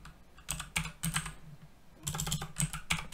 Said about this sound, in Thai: พิมพ์เข้าไปนะครับชื่อนะครับแล้วก็ แท็บ2 ครั้งนะครับ